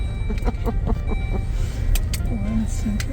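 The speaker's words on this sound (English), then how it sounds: "We're pulling into the gas station." Car rolling into a gas station, a close engine and road rumble under continuous conversation, with a few clicks and a brief rising whine near the end.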